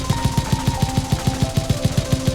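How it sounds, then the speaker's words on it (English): A tripod-mounted .50 caliber heavy machine gun fires in a video game, a steady rapid burst of heavy, evenly spaced shots that runs without a break from start to finish. "Now we are introducing the tripod-mounted 50 caliber heavy machine gun."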